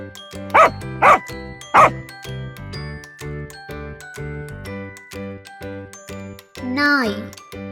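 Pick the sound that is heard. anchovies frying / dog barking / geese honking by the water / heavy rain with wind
dog barking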